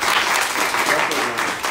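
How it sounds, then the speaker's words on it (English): Applause comes from an audience at a ballroom community leadership conference, a dense, loud burst of clapping that runs briefly and evenly, with some voices mixed in. "Let's clap it up for yourselves."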